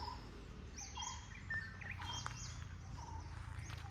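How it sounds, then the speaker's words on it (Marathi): Sparrows chirp here and there against a quiet outdoor background at a Sai Baba temple in rural Konkan, short high tweets scattered through a low hum. "चारी बाजूने चिमण्यांचा चिवचिवाट"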